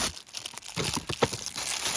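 Cellophane packaging crinkles and crackles close up as a knife's package is opened, a dense two-second rustle of plastic with no voices.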